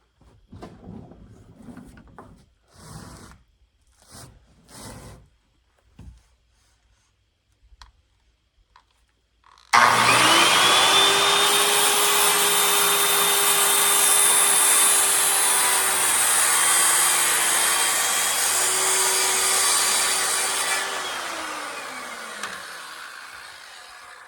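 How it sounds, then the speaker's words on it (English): A power saw cuts a wooden fascia board to length for a roof gable: a few quiet taps and handling sounds, then a loud, steady whining cut of about eleven seconds that winds down at the end. "So now when I cut that off, that angle should match up to that other fascia that is up there."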